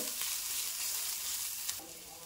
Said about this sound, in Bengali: এখন আমি আদা রসুনের কাঁচা গন্ধ না যাওয়া পর্যন্ত ভেজে নেব